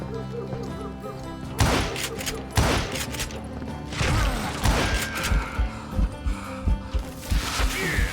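Gunfire in Call of Juarez Gunslinger, a series of sharp shots, first spaced out and then coming in quicker bursts, with clattering game sounds between them.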